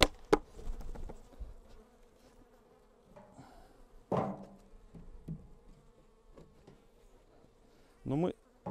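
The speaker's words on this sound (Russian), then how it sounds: "Пчелы немного есть, но потом из помещения уйдут" Honey bees buzzing near an opened hive during honey harvesting, a sustained drone with loud close passes as individual bees fly by, mixed with clatter of hive frames and handling noises.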